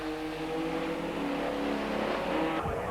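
A TVR Tuscan race car at a 1995 one-make race, engine note dropping as it brakes and shifts down, a steady loud roar with falling pitch and a rough downshift burst near the end, no talk.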